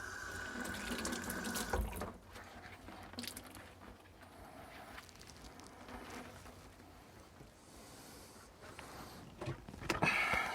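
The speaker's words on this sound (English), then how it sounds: "little bit of washing" Tap water runs into a sink while a bowling ball is washed, a continuous splashing flow with the stream hitting the ball and basin, louder at the start and end and softer through the middle.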